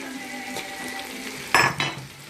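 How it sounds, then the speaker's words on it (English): Pork filling seasoned with soy sauce and veggie salt stirred in a pan, a steady low scraping and frying hiss with a couple of louder clattering scrapes near the end. "Give it a bit of stir."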